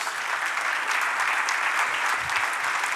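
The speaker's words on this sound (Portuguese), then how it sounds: "Pode aplaudir ele, Jesus" Church congregation applauding during a sermon, a dense, even roar of many hands clapping that carries steadily through the whole stretch, fairly distant.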